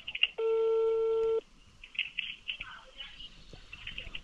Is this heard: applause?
no